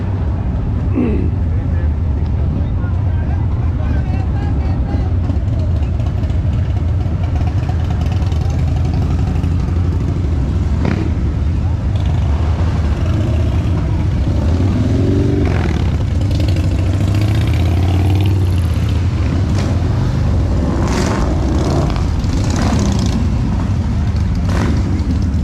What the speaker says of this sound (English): I think I can sit here right at the entrance and just watch bikes come in and out all day